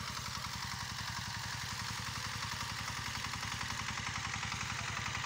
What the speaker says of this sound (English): kanaanza kuachilia tractor inatembea peke yake